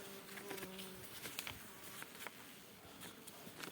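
Honey bees in an eight-frame beehive, checked in early March after wintering, make a faint continuous buzzing hum broken by light ticks and taps. No voices are heard.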